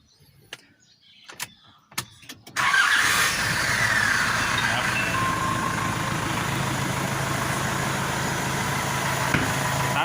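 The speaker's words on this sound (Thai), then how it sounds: "ติดง่ายดีนะครับ หลังจากเปลี่ยนหัวเผาแล้วก็ได้สตาร์ทครับ" A Nissan Frontier pickup with newly replaced glow plugs sits through a couple of seconds of quiet clicks and small mechanical knocks, then its engine fires up at once and settles into a steady, close idle.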